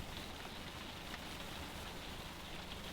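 Steady rain falls at a campsite on Vancouver Island, an even, dense hiss of drops on surfaces with no other sounds.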